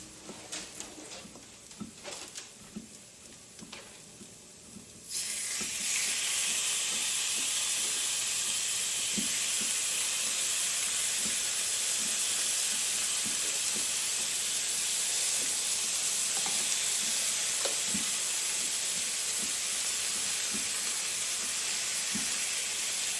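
Lamb chops hit a hot pan and burst into a loud, broad sizzle that holds steady and close for nearly twenty seconds, after a quieter stretch of faint kitchen noise at the start.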